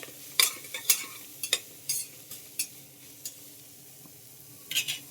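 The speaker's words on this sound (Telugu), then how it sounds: "ఉల్లిపాయ పచ్చిమిరపకాయలు వెల్లుల్లిపాయలు కూడా ఇలా వేసేసుకున్నాను ఒకసారి మనం వేపేసుకోవాలి ఇట్లాగా" Onions, green chillies and garlic fry with spices in a pan, a soft steady sizzle under sharp clinks and scrapes of a spoon stirring at irregular intervals, close by, no voices.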